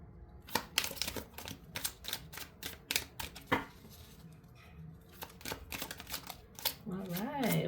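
Oracle cards are shuffled and pulled from a deck in quick, crisp riffles and flicks, with brief pauses between bursts, close to the listener.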